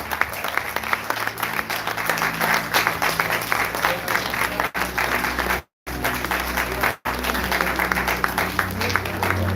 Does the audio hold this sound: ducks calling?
no